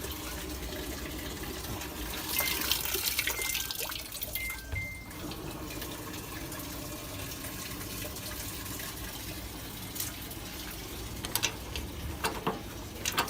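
Steady rush of water running into the drum of a Samsung coin-operated washing machine, a constant broadband hiss with faint clicks and knocks, no talking.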